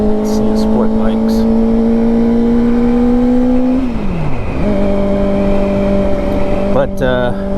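A Kawasaki Ninja ZX4RR sport bike runs at a steady high-pitched whine while riding, dropping through a gear change midway and climbing again, loud and close with wind rush throughout.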